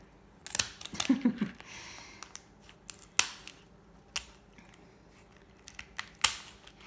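Kitchen shears cutting through a lobster tail shell, a series of sharp, close crunching snips and clicks separated by brief quiet gaps.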